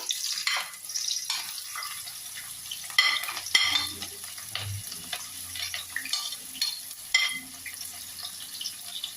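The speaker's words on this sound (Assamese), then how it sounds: "এয়া তেলখিনি গৰম হ'ল, মই পিঁয়াজখিনি দি দিছোঁ।" Onions and two bay leaves sizzle in hot oil for mutton curry with a crackling hiss, punctuated by stirring and scraping sounds at irregular intervals. No one speaks.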